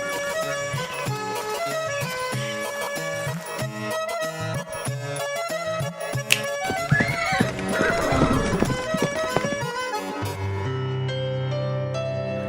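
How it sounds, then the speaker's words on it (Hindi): Horses neigh and clop their hooves near a village temple, with whinnies and steady hoof beats under a continuous music score, ending in a sustained musical tone. "1 घंटे से हमारे ही घोड़े हम लोगों को ही लात मार मार कर जान लेने पर उतारू हैं।"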